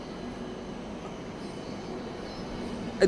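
Steady low rumble of a train rolling along, a continuous mechanical drone with a brief sharp clank right at the end.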